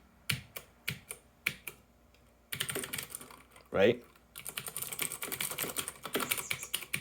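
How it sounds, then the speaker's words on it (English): Loud, clicky Keychron K6 mechanical keyboard with blue switches: a few separate key presses, a brief spoken word, then a burst of rapid continuous typing close to the mic. "These are blue switches. So as soon as I press down, you're going to say, wow, that's really loud."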